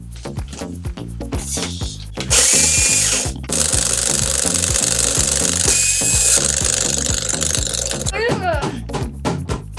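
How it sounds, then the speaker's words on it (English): A toy hammer strikes a giant surprise box in rapid repeated knocks, with a loud whirring power-tool-like burst partway through; speech is audible alongside the banging. "Let's use my hammer."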